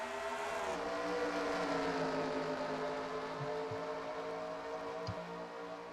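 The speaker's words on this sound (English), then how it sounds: "As they head off into turn 1 for the first time today." NASCAR stock cars racing at Las Vegas Motor Speedway, a dense, sustained roar of many engines heading into the first turn, with shifting drone pitches, heard from a distance at modest level and without talk.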